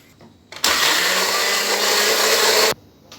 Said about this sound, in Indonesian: kita blender untuk bikin adonannya